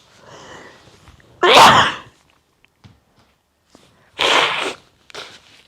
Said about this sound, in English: I'm going to sneeze some more.